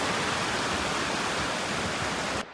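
Snowmelt water rushing along a stream in Gulmarg, a loud continuous broadband roar close by that holds steady before cutting off at the end, no one speaking.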